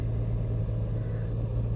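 Steady low engine and road rumble fills the cabin of a car driven with the window wound down, a constant drone with no talking.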